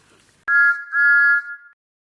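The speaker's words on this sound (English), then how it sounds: "and he whistled very impatiently." A toy Thomas the Tank Engine gives an impatient whistle: a short shrill blast, then a longer held blast, close and loud, alone with no talk.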